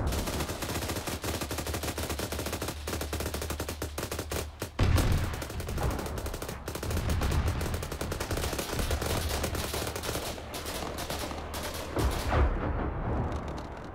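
Gunfire from the combat video game ArmA 3 rattles almost without pause, loud overlapping rifle and machine-gun bursts with sharp cracks and dense rolling reports, heard alone without voices.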